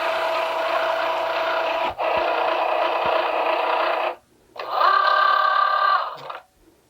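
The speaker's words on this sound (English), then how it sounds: "so we'll just start the card into the Cricut Joy" A Cricut Joy cutting machine draws in a card for foil transfer, giving a steady close motor whir that stops briefly and then resumes with a higher, pitched whine before cutting off.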